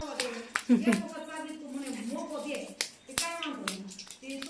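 A few sharp hand claps ring out amid a child's chatter and an adult's voice, close by and irregular.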